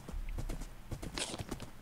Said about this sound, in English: Your horse is slow, Pete.